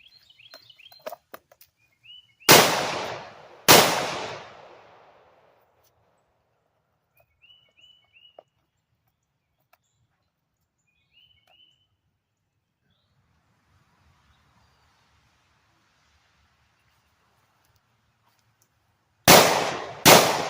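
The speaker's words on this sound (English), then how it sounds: "Now that second round was with a Smith & Wesson 640." Two sharp, loud revolver shots from a Smith & Wesson 640 ring out about a second apart, each trailing off in echo, with a further pair of close shots at the end and quiet outdoor birdsong in between.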